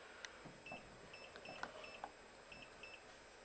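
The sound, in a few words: Gatehouse digital deadbolt beeping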